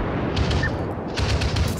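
Naval ship guns fire in World of Warships aboard the Japanese cruiser Yubari, heavy booming shots rolling over a dense battle din with faint higher pops scattered through.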